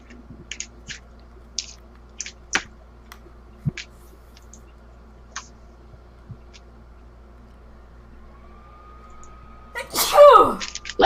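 A single sharp sneeze bursts out near the end, loud and close, after a quiet stretch of scattered clicks and taps from a tabletop gaming session.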